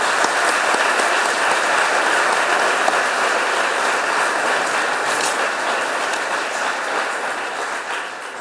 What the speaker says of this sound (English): Joelle deserves our commendation and our applause